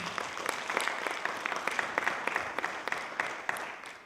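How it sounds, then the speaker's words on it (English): Audience applause at a summit, a sustained patter of many hands clapping at a steady, moderate level throughout, with faint voices mixed in. "Can you again clap for him?"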